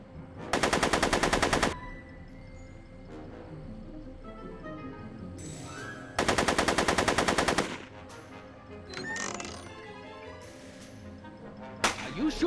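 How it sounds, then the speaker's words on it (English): Rapid automatic gunfire in the Back to the Future video game, two loud sustained bursts of fast shots about a second long, separated by quieter game sounds and a few sharp single cracks near the end. "Are you shooting at me?"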